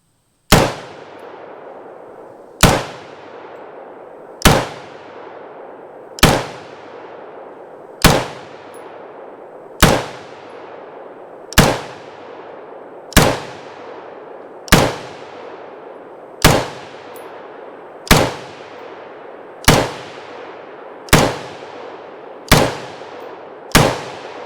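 A T91 piston AR rifle fired at an outdoor range, with about fourteen sharp, loud shots spaced evenly a couple of seconds apart, each followed by a short decaying echo.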